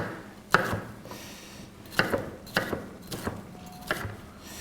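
A knife chops a green pepper on a cutting board with a handful of sharp, separate cuts spaced about a second apart. The cuts are close and moderately loud over quiet room tone.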